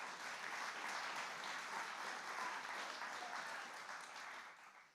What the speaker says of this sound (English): Mere mention of the name prompts applause.